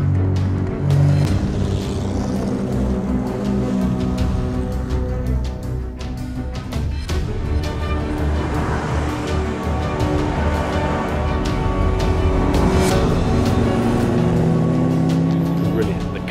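Classic Jaguar race car engine at the Mille Miglia, roaring and droning continuously with shifting revs and gear changes, loud and close, with someone talking over it.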